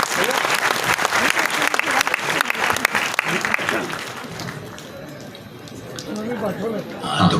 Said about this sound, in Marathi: आपण जोरदार टाळ्या वाजवून त्यांचे इथे स्वागत करूया.